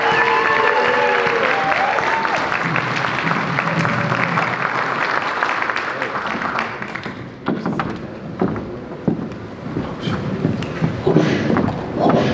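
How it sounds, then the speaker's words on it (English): Audience applauding at a live performance event, steady dense clapping and crowd noise sustained for several seconds, then thinning into scattered claps with some voices underneath. "Please, big round of applause for Joey Marcus."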